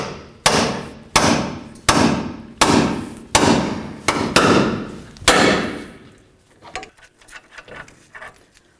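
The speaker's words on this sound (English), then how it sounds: "Then we're going to use our hammer and pickle fork and separate the 2." A hammer strikes a pickle fork wedged into the lower ball joint of a Toyota Tundra's front suspension, about seven sharp metallic blows at a steady rhythm, followed by lighter clinks and rattles as the joint comes apart.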